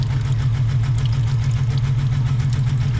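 A BMW engine with a 4HP22 automatic transmission idles with a steady, loud low rumble that holds constant throughout.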